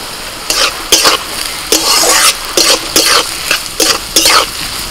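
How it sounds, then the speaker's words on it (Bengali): Diced carrots and beans fry in a pan and are stirred in loud, rhythmic bursts, each scrape and toss swelling the sizzle before it settles again, about eight strokes in quick succession. "গাজর আর বিনসটা একটু ভাজা হয়ে গেলে দিয়ে দিচ্ছি লঙ্কা কুচি"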